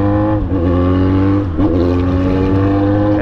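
A Yamaha XJ6 motorcycle engine revs loudly and close, a throaty steady drone with two brief dips as the throttle is blipped, on a street in London.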